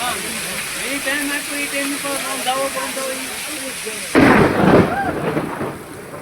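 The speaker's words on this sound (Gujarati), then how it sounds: "અત્યારે આપણે ફૂલ વરસાદ ને એવું ચાલુ છે" Heavy monsoon rain pours steadily outdoors beside a road as a constant dense hiss. A person talks over it, and a sudden louder rush of rain or splashing swells near the end.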